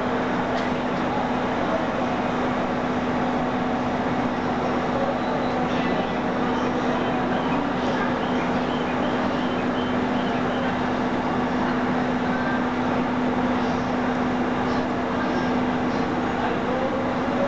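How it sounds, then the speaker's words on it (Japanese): A train pulls in at a platform at Yokohama station, a loud, steady rumble with a constant hum running throughout, station ambience mixed in and no clear talk. "電車到着です。"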